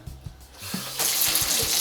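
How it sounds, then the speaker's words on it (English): Water starts running into an old sink in a barn, a steady broadband rush that swells after a second, with a few faint clunks of the tap or pipes at the start. "we now have running water in the barns, and specifically this is an old sink"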